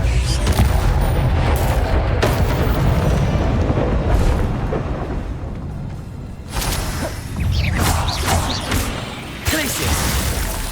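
Explosive fire-spell blasts from Confringo in the Hogwarts Legacy video game boom and crash repeatedly amid dense combat noise, with sharp bursts near six and a half and nine and a half seconds.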